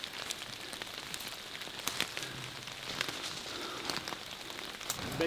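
Steady rain falls outdoors during a hunting trip, an even wash of drops and patter pattering on surfaces with occasional sharper hits, continuous and moderately quiet throughout.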